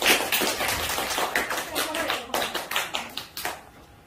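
A small group claps in a scattered burst that gradually thins out toward the end, fairly faint and a little distant.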